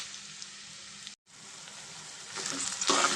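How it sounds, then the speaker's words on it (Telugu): Onions hitting hot oil in a pan for a chicken and broad bean curry, giving a steady close sizzle that breaks off for a moment, then comes back louder and more intense toward the end. "ఆయిల్ కొంచెం హీట్ అయిన తర్వాత మనం దీంట్లోనూ ఆనియన్స్ అనేది వేసేసుకున్నాము."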